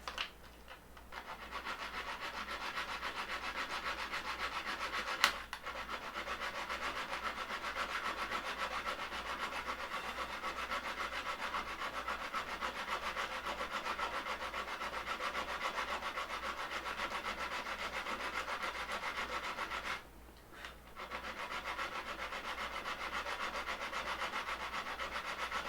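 Steady abrasive rasping of a hand file on a 3D printer frame part, continuous close-up scraping that runs almost without pause, broken by one brief gap near the end.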